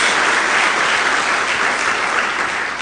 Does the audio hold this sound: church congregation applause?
yes